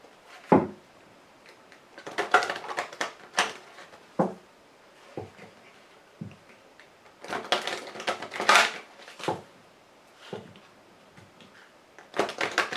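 A Lenormand fortune-telling card deck being shuffled by hand, with a series of crisp, papery bursts and riffles coming in irregular clusters, close and fairly quiet, with short pauses between them.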